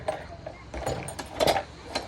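Metal milk cans are hung onto a vehicle before the ride to the dairy, giving light clinks and jangly knocks scattered across the moment, faint and close, with soft speech-like sounds between them.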